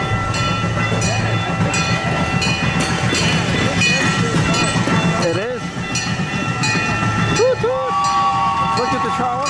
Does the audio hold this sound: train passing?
yes